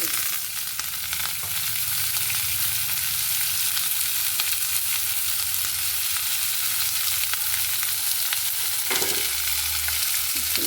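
Sliced onions, green chillies and curry leaves fry in a hot pan, a loud, steady sizzle that stays close and constant, broken now and then by stirring.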